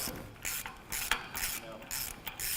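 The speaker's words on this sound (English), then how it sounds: "So right now I'm putting the studs in the axles that are going in the rear end." A ratchet wrench clicks in a series of short, fairly loud ratcheting bursts, close by, as wheel studs are fitted into rear axles for the rear end of a twin-turbo 1932 roadster.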